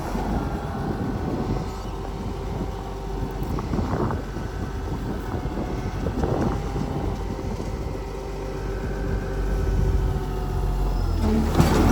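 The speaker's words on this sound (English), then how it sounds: "seems like everyone has a hard time starting this tractor except me." A farm tractor's engine turns over and runs, a steady low mechanical drone with rising surges, fairly close and loud, with no talk.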